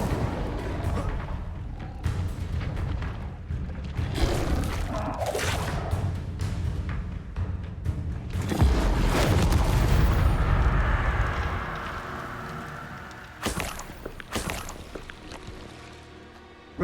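Repeated whooshing and booming fire-spell blasts in the wizarding video game Hogwarts Legacy, loud and close, with a long roaring surge in the middle and a few sharper impacts near the end.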